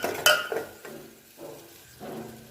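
Turmeric stirred briefly in hot oil in a pan over lowered gas while making a potato amti: a few close metal clinks and spoon scrapes with a light sizzle beneath, no talking.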